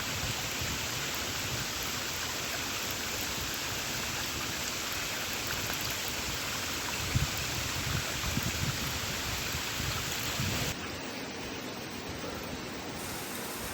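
Water pours down steadily on the Bhimashankar trek, a dense continuous hiss and splash like heavy rain or a small waterfall, close by and unbroken throughout.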